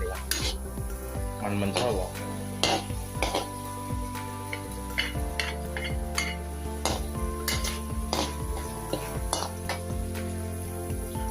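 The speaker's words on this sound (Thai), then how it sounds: "ต่อไปเจียวหมูสับเสร็จแล้วเราใส่กระเทียมนะครับ" Minced pork and garlic frying in hot oil in a wok, with steady sizzling under repeated scraping and clinking of a metal spatula against the pan, close and continuous.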